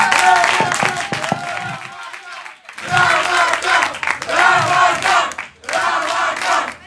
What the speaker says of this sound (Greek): Ένα χειροκρότημα για αυτούς, παρακαλώ